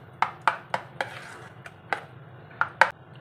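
Moong dal idli batter is stirred in a bowl, giving a series of sharp spoon-on-bowl clinks and taps at an uneven rhythm, close and clear against a quiet background.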